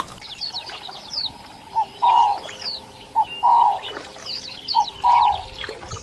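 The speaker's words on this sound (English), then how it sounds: "a pair of slender legs wades through the waterlogged grass, the grey-crowned crane" Bird calls ring out over the waterlogged grass of the Zambezi floodplains, where grey-crowned cranes wade: repeated mid-pitched honking notes in three spaced bursts, with fainter high chirps from other birds scattered throughout.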